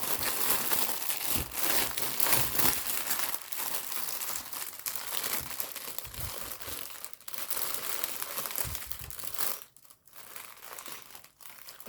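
Continuous crinkling and crumpling of a plastic bag, loud and close, with irregular rustling bursts throughout and a brief lull near the end.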